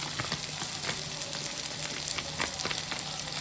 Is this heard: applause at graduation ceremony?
no